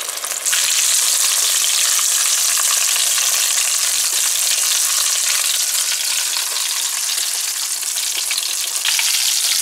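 Small potato balls deep-frying in hot oil give a loud, steady, dense sizzle that runs unbroken and close up, with no talking.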